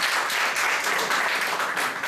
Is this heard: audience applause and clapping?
yes